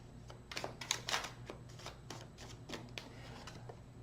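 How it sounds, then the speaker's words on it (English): Tarot cards are shuffled close by in quick, papery riffling bursts, several flicks in a row, soft and without speech. "1 more shuffle."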